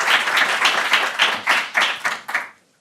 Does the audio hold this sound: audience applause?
yes